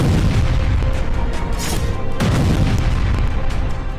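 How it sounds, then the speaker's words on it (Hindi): Heavy explosions and booming blasts in Khan Younis, a dense continuous rumble with a few sharper bursts standing out, loud and close throughout. "खान यूनिस से लेकर वेस्ट बैंक तक ताबड़तोड़ धमाकों का दौर जारी है"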